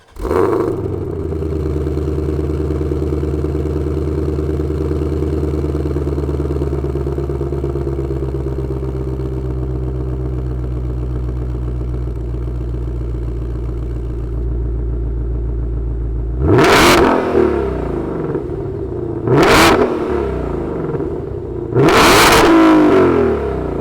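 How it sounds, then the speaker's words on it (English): A 2020 Ford Shelby GT500 Mustang V8 fires up with a loud start, settles into a deep steady idle, then three sharp, close revs burst out in quick succession. "let's fire it up and see why Shelby GT500s are selling so well"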